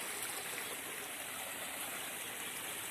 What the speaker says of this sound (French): sur mon terrain, il y a un petit ruisseau qui coule jusqu'au mois de juin